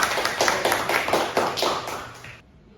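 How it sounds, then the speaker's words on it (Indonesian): Short burst of studio applause for a guest, a small group clapping in a quick, even patter that carries for a couple of seconds, then stops abruptly. "Berikan aplaus dulu buat Pak Fajar."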